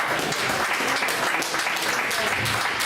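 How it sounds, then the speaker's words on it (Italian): Crowd applause for Nicola Fancello at a Christmas evening of poetry, sounds and songs at Villa Gardenia in Ossi, Sardinia; dense, steady clapping fills the whole stretch at close range with no pause. "Un applauso a Nicola."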